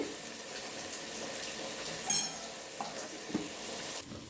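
Chicken fries in a pan with ghee, a soft continuous sizzle with a few stirring scrapes and small clinks, heard close with no talking.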